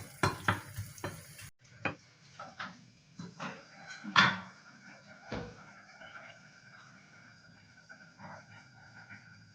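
Minced beef sizzles in a hot pan with intermittent stirring and scraping clatters, louder bursts early on, then a steadier low frying hiss.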